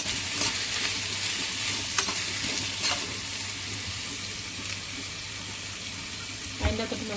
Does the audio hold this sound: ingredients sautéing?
yes